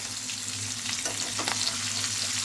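Hilsa fish pieces frying in oil as they are carefully flipped, a continuous close sizzle with a low hum beneath and a couple of soft turning clatters.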